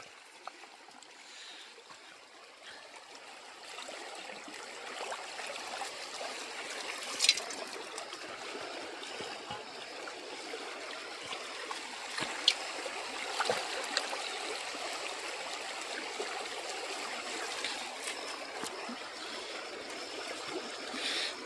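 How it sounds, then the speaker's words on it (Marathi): Clear river water runs steadily along a riverbank campsite, a continuous close trickle and gurgle with brief splashy peaks and no voices. "पाणी बघा किती भारी वाहत आहे"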